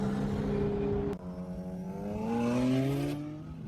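BMW cars accelerating hard in a street race, engines rising in pitch through gear shifts with a sharp change partway, loud and close with no talking.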